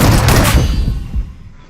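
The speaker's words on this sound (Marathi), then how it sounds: "परत एक गोळी मारली" A burst of gunfire from a first-person shooter video game, DBS S12K shotgun blasts booming loudly at the start and then fading into a decaying rumble.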